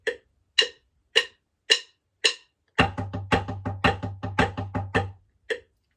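Five evenly spaced metronome clicks, then a steady run of sharp snare drum strokes in triplet groups accented on every downbeat over a low hum, ending with a single click.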